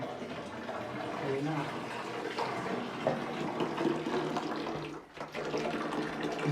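Water runs steadily from a tap into a bucket at a construction site, a continuous splashing hiss that briefly dips near the end, with someone speaking over it.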